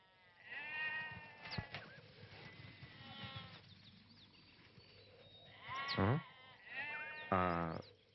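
Goats on a rural farm bleat several times in a row, with wavering, nasal cries spread across a few seconds that grow louder and closer toward the end, and no talk.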